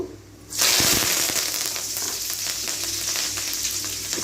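Mustard seeds and curry leaves hit hot oil and burst into a loud, steady sizzle with crackling pops, held close and continuous after a brief quiet start.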